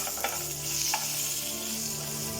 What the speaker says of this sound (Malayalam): നമുക്ക് ഉണക്കമുളകും കറിവേപ്പിലയും ഇട്ട് കൊടുക്കാം